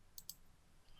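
Two quick, crisp computer mouse clicks in close succession, faint and isolated in a quiet room.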